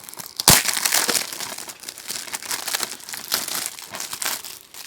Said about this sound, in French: On va déballer, je vais vous le montrer à l'intérieur.